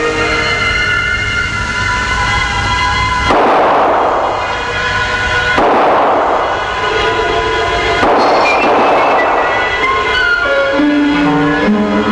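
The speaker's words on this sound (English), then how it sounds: "It is the hunter's turn to resort to their shotguns to kill the dangerous challenger and clear the sky again for our falcons." Hunters fire shotguns at an eagle in the sky, three loud booming shots spaced a few seconds apart over sustained tonal music.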